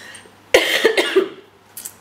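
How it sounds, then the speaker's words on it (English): A single close cough from a woman indoors, a sharp burst followed by a couple of short rasping bursts over about a second, then near quiet with a faint trailing sound. "Sorry about that cough."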